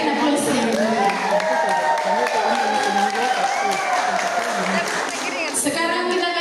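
An audience at a church Easter solo singing contest for elderly contestants claps, with the applause running under a host's amplified voice for several seconds.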